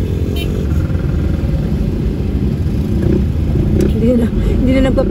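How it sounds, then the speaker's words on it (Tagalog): Motorcycles squeeze through heavy road traffic in General Trias, a loud, continuous engine rumble with occasional revving close by, and brief voices in the background. "Hindi na nagpapigil yung mga motor oh."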